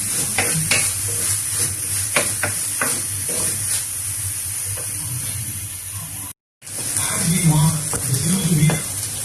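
Onions sizzle and fry in a chatti, a traditional clay pot, for a coconut-milk mackerel curry, with a steady loud hiss and scattered stirring scrapes, briefly cut to silence before the sizzling resumes.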